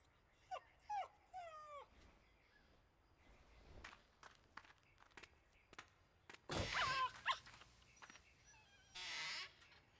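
Dog in the horror game Rule of Rose whimpering and yipping in short whiny bursts, followed by footsteps and a couple of louder rustling noise bursts, fairly quiet overall.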